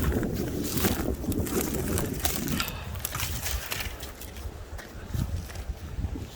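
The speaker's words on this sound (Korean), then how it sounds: "아 바람이 많이 부네 많이 불어 아 바람이 대단하네" Strong wind blowing hard outdoors in a cold mountain valley, a loud continuous roaring rush buffeting the microphone, with gusts swelling and easing over several seconds and no voices heard.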